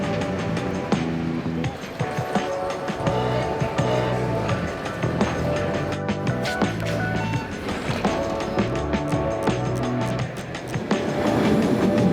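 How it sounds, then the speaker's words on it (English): A Brussels metro train rolls along its tracks, a loud, close rumble with rhythmic clicks and clacks of the wheels, some squeals and tonal whines rising and falling, with brief indistinct talk. "So we're gonna take the metro right now."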